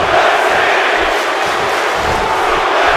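A roaring arena crowd cheers and shouts continuously at full volume during a WWE 2K17 wrestling match, a dense wall of voices with no break.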